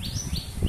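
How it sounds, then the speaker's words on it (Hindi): Small black sparrows chirp in the morning, with quick high tweets repeating about every quarter second over a soft low background rumble, close and fairly loud. "ये देखो जी, चिड़िया छोटी छोटी कैसे शोर कर रही है"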